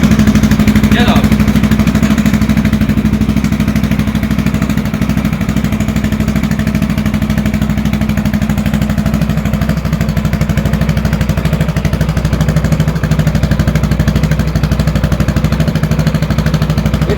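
A Yamaha XMAX 300 scooter bored out to 350cc with a 76mm kit, running through a catalyst and silencer, holds a loud, steady, close engine drone for the whole stretch with no clear rise or fall.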